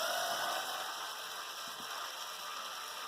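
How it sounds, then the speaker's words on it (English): A noisy ratcheting screwdriver works on a Sky box during a teardown involving a 2TB hard drive, giving a continuous quiet mechanical whirr with faint clicking, close up and without voices. "noisy screwdriver"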